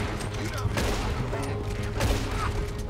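Gunfire in a Red Dead Redemption 2 shootout, a dense continuous fusillade of shots with louder bursts near the start, middle and around two seconds, over steady background noise.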